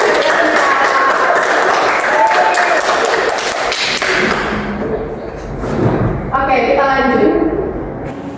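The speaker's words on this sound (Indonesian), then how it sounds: "Tepuk tangan untuk kakaknya." Classmates in a geography class give a student a short, uneven round of scattered clapping with some thumps and taps, mixed with talking voices, tapering off as speech takes over.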